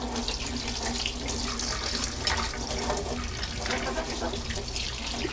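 Steady tap water runs continuously into a sink while a lobster is rinsed, a constant close splashing rush with no pauses.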